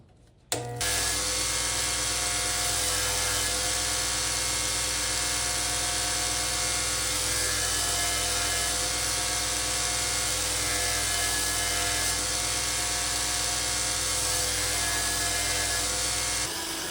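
A vintage Swedish axe is sharpened at progressively higher grits, a loud, continuous abrasive whine of a powered sharpener that starts abruptly and holds steady without pause.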